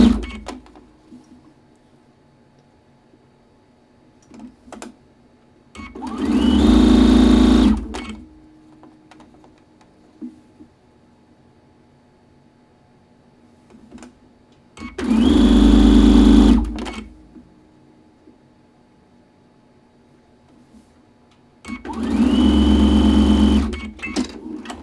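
A sewing machine stitches fabric slowly in three separate bursts of steady mechanical whirring, each about two seconds long and close by, with quiet pauses between them.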